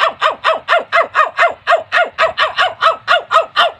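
A voice imitates a crying puppy with a rapid, evenly spaced series of about fifteen high, yelping whimpers, loud and close, with no other sound.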